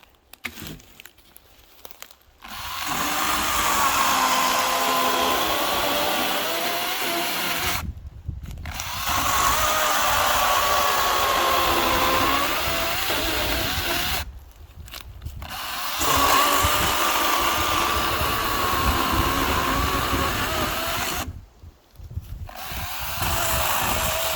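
A Kraissmann 3502 cordless chainsaw cuts through pine wood in three long, loud bursts of steady whining saw noise, separated by short pauses where the motor stops.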